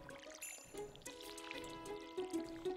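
A watering can pours over crops in the Stardew Valley video game, a soft trickling splash effect layered over steady tonal game music, moderately loud and continuous throughout.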